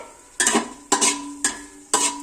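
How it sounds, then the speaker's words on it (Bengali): Dried red chillies stirred in a hot pan, giving four evenly spaced scraping strokes over a faint sizzle, close and fairly quiet. "শুকনো লঙ্কাটা দিয়ে নাড়াচাড়া করব।"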